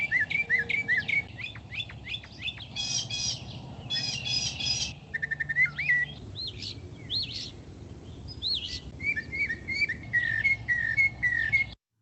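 A mockingbird sings a long varied song copying other birds, including Carolina wren, flicker, jay, wood thrush, phoebe and tufted titmouse, clear close whistled phrases and chirps in shifting repeated bursts with short pauses.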